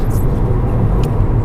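A VW Golf TSI petrol engine on a test drive gives a steady, low cabin rumble that holds even throughout, with no voices.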